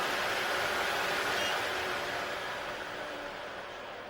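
A MELODYSUSIE nail dust collector vacuum runs at its highest speed, giving a steady, even airy whoosh that fades slightly toward the end, heard close and alone.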